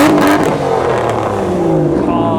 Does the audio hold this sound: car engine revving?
yes